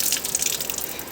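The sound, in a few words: water running from a tap while a girl bathes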